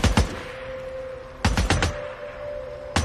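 Gunfire in the video game Days Gone: a sharp shot at the start, then a quick cluster of four loud cracks, and one more shot at the end, all over a faint steady tone and with no talk.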